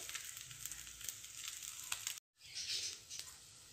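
Bread slices fry in a pan until golden for a homemade bread halwa, with a soft, even sizzle and light crackle that cuts out abruptly partway, then picks up again.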